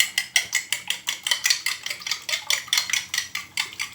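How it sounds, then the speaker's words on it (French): Four eggs beaten in a bowl with a utensil, a steady fast rhythm of clicking, sloshing strokes, close and fairly loud with no talking. "moi je vais mélanger les œufs"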